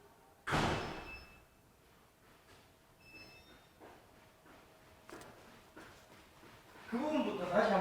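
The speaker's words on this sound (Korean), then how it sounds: "문을 닫아야 되는데." A door is shut with a sharp thud in a lecture room during a science talk on magnets and magnetic fields, with a quieter knock afterward and a voice talking.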